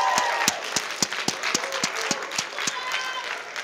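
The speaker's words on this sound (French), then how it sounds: "On les applaudit." Audience applause in a church gathering: a small group claps in a sharp, uneven rhythm of distinct claps, moderately close, with some cheering and voices mixed in.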